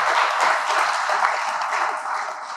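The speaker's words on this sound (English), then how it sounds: "So clap for VIPs and other." Audience applause at a national poultry veterinary symposium panel discussion, a dense, steady wash of many hands clapping throughout, tapering slightly toward the end.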